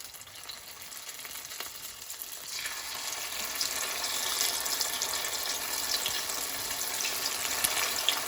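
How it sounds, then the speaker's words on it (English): Vegetable tofu rolls sizzle in hot oil in a deep pot, a steady hiss that swells louder partway through as the frying builds, with no talk. "this oil is ready. So let's add our vegetable roll one at a time."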